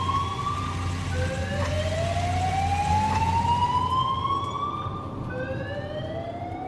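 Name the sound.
ambulance siren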